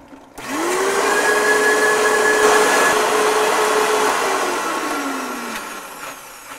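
A countertop blender spins up on high to whirl an olive oil mixture for vegan Mediterranean summer rolls, giving a loud steady motor whine that holds for several seconds, then slowly winds down in pitch as it stops.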